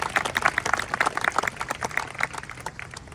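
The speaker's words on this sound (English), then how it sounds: "Please give them a round of applause." Audience applause at a groundbreaking press conference: scattered, fairly faint handclaps with a loose, uneven rhythm that thins out toward the end, heard alone without talk.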